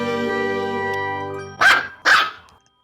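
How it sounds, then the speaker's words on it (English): Two sharp, loud barks from a pet dog ring out close by in quick succession, following a sustained tonal hum. "This is the dog of the week."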